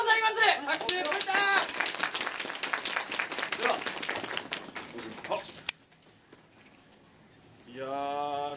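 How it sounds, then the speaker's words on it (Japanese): Audience applause at a farewell event for a samurai warlord performance troupe, a dense wash of clapping under a voice at the start, then dropping off and leaving quiet near the end. "拍手。"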